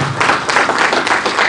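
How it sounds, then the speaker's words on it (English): Conference attendees applaud a presenter in a short, close burst of mixed clapping that pulses unevenly for about a second and a half. "I think it deserves a round of applause"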